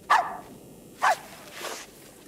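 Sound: corgi dog barking in video game Arizona Sunshine 2

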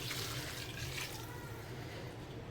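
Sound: hot water poured into mutton curry

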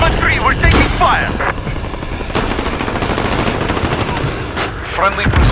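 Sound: gunfire in Call of Duty Modern Warfare video game

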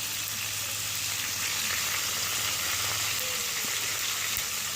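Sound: whole cumin seeds frying in oil for olive pickle

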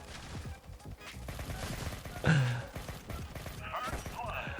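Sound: gunfire in the mobile FPS game The Origin Mission (Alpha Ace)

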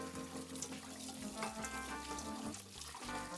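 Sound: water rinsing beef tongues in a colander

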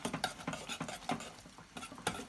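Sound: stirring tarhana dough mixture with pekmez

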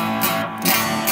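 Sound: electric guitar through Green JRC overdrive pedal

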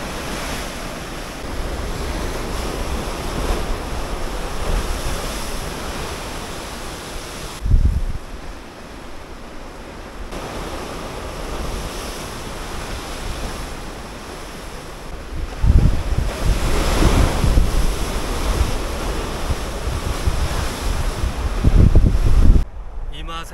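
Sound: ocean waves crashing on the Busan coast

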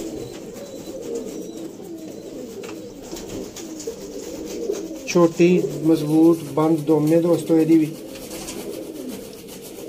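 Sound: flying pigeons cooing

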